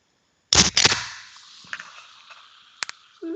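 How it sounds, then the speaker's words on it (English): Pull tab on an AHA sparkling water can snapped open with a sharp crack and quick fizzing hiss, close and loud, followed by a few faint clicks and settling sounds. "rate this pop top"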